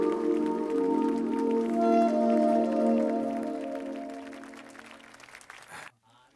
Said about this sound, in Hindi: अपनी तालियों की आवाज को रोकने मत दीजिएगा।